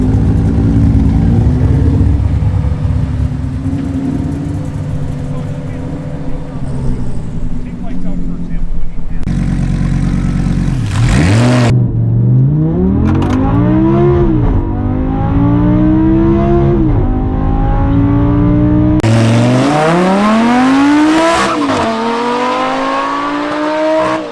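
A turbocharged Ford Crown Victoria accelerates hard down a drag strip, its engine loud and close as it climbs through the revs in rising sweeps with gear changes between them. A voice speaks briefly under the engine.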